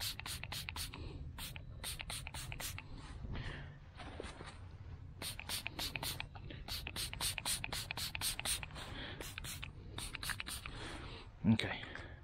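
Doe-in-heat scent lure sprayed from a pump bottle onto a mock deer scrape in the woods, a long run of sharp, close hissing spritzes in quick bursts with soft rustling and a person moving between them.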